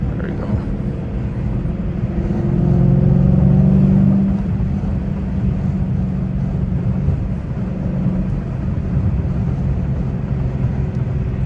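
Dodge Challenger Scatpack engine heard from inside the car on a night drive, a deep steady drone with a brief swell of revs early on, mixed with road and wind noise from a partly open window.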